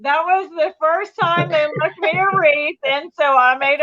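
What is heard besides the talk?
No distinct noise like a dog, phone or traffic.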